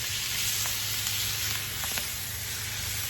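Beef tenderloin sizzles steadily on a tiny griddle on a Masterbuilt 560 Gravity Series grill, a constant close frying hiss with faint ticks and pops of spatter throughout.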